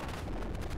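Dense, rumbling bursts of explosions and gunfire from a shoot 'em up video game, a continuous loud blast texture with no gaps.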